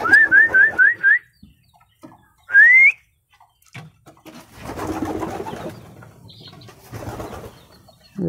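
Pigeons being fed rice, with several quick rising whistles at the start followed by a longer one, then soft cooing and fluttering at close range.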